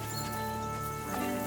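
Horses in a stable yard in the game Kingdom Come: Deliverance 2, soft hoof clops blended into a steady ambient drone with faint tonal background sound, quiet and continuous.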